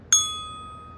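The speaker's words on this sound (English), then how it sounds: "the acrylic producing a long, round bell-like sound" A mallet strikes an acrylic bell-like percussion bar once, giving a sharp bright attack followed by a long, round ringing tone that decays slowly, alone and fairly quiet.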